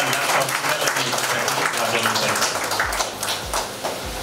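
A crowd at a hospital event in Bhandara claps warmly for the launch of a health app, a dense burst of applause that fades toward the end with a few scattered claps.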